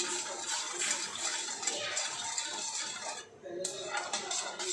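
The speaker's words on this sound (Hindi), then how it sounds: "इसे चलाते जाएंगे जब तक चीनी अच्छे से पिघल ना जाए।" Sugar syrup stirred in a pan with a spoon, steady scraping and clinking of metal against the pan with a bubbling, watery wash underneath, close and continuous with a short dip near the end.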